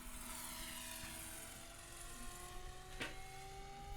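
A propeller aerobatic plane climbs into a stall turn, its engine droning steadily and fairly far off, the pitch shifting slowly as it rises.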